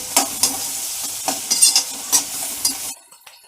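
Chopped onion with salt is sautéed in a hot pan until soft, a steady sizzle broken by regular scraping strokes of a spatula before the sound cuts off near the end.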